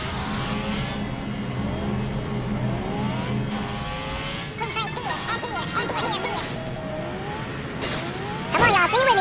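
A car engine in Saints Row IV rises and falls in pitch through several revs, loud and close, with tonal music-like layers alongside.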